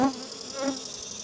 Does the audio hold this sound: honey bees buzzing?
yes